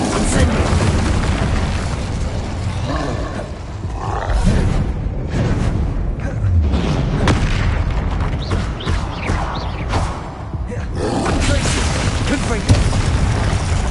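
Fire spell Incendio cast repeatedly in Hogwarts Legacy on PS5, heavy booming roars and blasts rising and falling over a dense rumbling game mix, with a voice calling out spells throughout.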